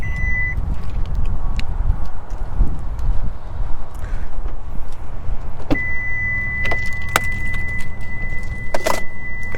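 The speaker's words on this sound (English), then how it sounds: "Of course, the tailgate is powered." The powered tailgate of a 2023 Genesis GV60 Performance Edition electric SUV moves with a low motor hum over steady background noise, joined near the end by several short electronic warning tones.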